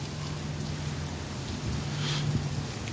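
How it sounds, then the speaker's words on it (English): Steady rain falls at night in a continuous, even wash of noise with no breaks, fairly close and moderately loud, with a low steady hum underneath and no voices. "The rain is coming down steadily and surely, but it's coming down."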